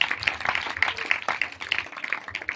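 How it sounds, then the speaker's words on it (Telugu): A church congregation claps their hands loudly in a steady, quick rhythm of sharp, close claps, with voices mixed in underneath. "చప్పట్లు కొట్టండి, గట్టిగా"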